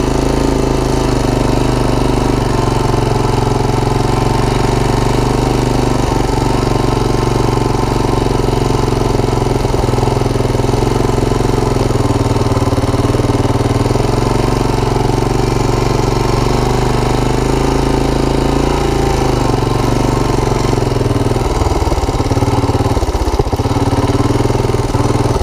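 A worn, clapped-out Honda TRX250 ATV engine runs continuously on a trail ride, a loud, close, steady mid-pitched drone with slight rises and rattling clatter toward the end.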